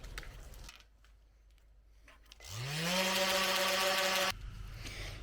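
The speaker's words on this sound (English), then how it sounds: "so I'm going to start sanding these things." A loud power sander whirs steadily on wood for a couple of seconds after a quiet stretch, then cuts off, leaving softer background noise.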